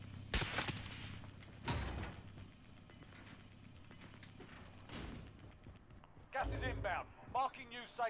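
An MG 82 machine gun fires in the game Warzone, with loud bursts near the start and end and quieter shots between, while someone talks throughout.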